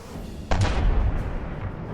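Cannon fire in the naval combat game From the Depths: one heavy boom lands partway through with a sharp onset, then a longer rumbling tail and lower booming continuing to the end.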